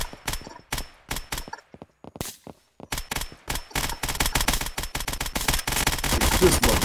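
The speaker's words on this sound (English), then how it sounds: "Who threw that flashbang?" Arma 3 firefight with repeated sharp gunshot bursts and loud blasts, a flashbang grenade going off amid dense, escalating gunfire that grows nearly continuous toward the end.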